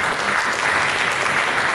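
Steady, dense applause from a church congregation clapping for Jesus during a service, loud and sustained with no talk over it.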